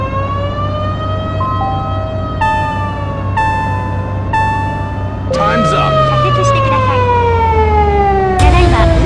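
Electronic police car siren from the arcade driving game Thrill Drive 2, loud and close, with stepped wailing tones that shift pitch and later sweep downward as engine and game sounds join in.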